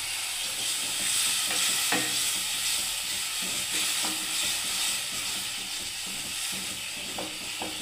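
Ginger and green chili paste masala sizzles and hisses steadily in a pan after a splash of water, with repeated scraping stirs sounding at intervals throughout.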